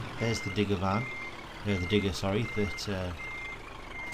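A Scania truck hauling a trailer at a port in Scania Truck Driving Simulator sounds its steady reversing beeps, evenly repeating high electronic tones under engine hum while someone talks over them.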